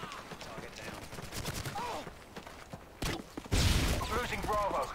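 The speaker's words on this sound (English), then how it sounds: "Get it, sentry gun." Rapid bursts of automated sentry gun fire in Modern Warfare 2 on the Scrapyard map during a Domination match, sharp repeated shots mixed with other gunfire and game effects, with a player talking over it.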